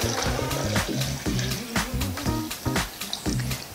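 A litre of water poured into a blender with lemon, stevia and mint leaves for a detox juice, a continuous splashing, gurgling stream close up and fairly loud, with no voices.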